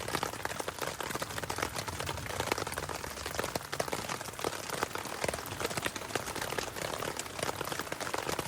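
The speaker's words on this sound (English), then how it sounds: "this rain is not letting up" Steady rain falls on a hiking camp in the Northwest outdoors, a dense, even hiss of drops that continues without pause for the whole stretch.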